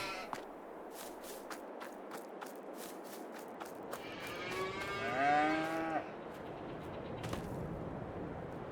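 Cows moo in Farming Simulator 22, one drawn-out moo in the middle over a quiet farm ambience with sharp clicks and faint steps, no talk.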